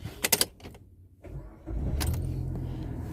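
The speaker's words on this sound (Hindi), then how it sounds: "एक बार मैं गाड़ी को स्टार्ट कर देता हूँ।" A Maruti Dzire or Swift with a CNG kit starts up: a few sharp cranking bursts, a brief pause, then the engine catches and settles into a steady close idle, with no talking.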